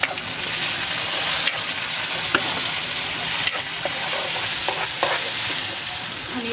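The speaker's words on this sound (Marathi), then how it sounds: "लसूण कांदा आपण टाकू" Garlic and onion with cumin fry in a hot pan, giving a steady loud sizzle throughout with a few sharp clicks of stirring against the pan and no talking.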